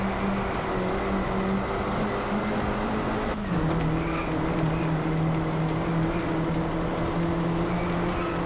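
A racing video game car swings through a handbrake turn after a run of chicanes. Its engine drones loudly throughout while the tires skid, and the pitch lurches partway through as the car slides.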